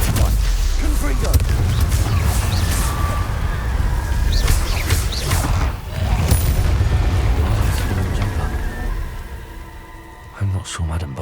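Confringo fire spell explosions in Hogwarts Legacy: loud booming blasts and crackling bursts in dense, continuous combat noise, with sharp impacts scattered throughout and a sudden thump near the end.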